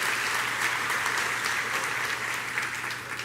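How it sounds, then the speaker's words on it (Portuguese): Church audience giving a round of applause, a loud, even wash of clapping sustained for a few seconds with a low hum beneath. "dá uma salva de palmas"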